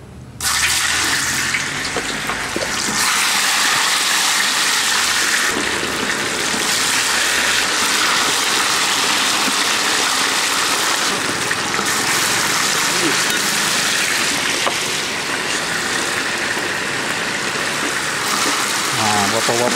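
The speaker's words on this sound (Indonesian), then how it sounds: "Okey, kita goreng ayam pula." Chicken pieces deep-frying in hot cooking oil, a loud, dense, continuous crackling hiss close by that holds steady throughout, with a voice talking at times underneath.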